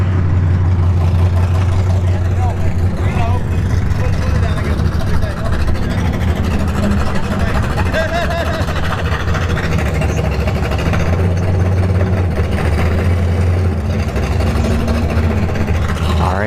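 An Oldsmobile Cutlass rumbles loudly at a drag strip during test-and-tune, a dense, steady engine roar holding close and strong from start to finish with no pauses.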